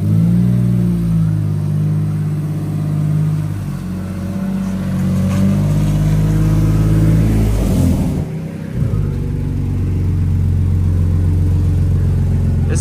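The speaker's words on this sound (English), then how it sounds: "This exhaust sucks." A BMW E46 wagon's engine idles and revs through its exhaust, a loud, close, rumbling drone that rises and falls with a sharp dip midway, with some talk around it.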